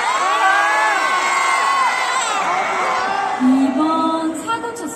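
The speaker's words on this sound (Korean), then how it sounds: "여러분의 함성 소리로 한번 체크해볼게요." Students at a Daejin University anniversary concert roar and cheer loudly together, a dense crowd shouting to vote for an encore song, with high whoops and children-like screams rising over sustained near-continuous noise.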